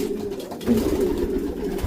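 Low, throaty cooing from racing pigeons rumbles close by, a continuous soft burbling with a slight swell partway through.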